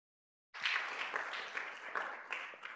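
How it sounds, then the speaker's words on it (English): A round of applause from a student senate meeting, starting abruptly after a half-second of silence and continuing as steady, fairly quiet clapping to the end. "Can we get a round of applause?"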